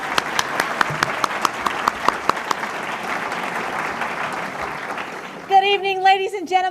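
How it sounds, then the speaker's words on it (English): Audience applause opening an annual teacher recognition gala: sharp, loud claps close in front over a thick wash of crowd clapping, fading after about five seconds as music begins. "this is where everybody's supposed to clap because it's the start of the show and we're ready to go"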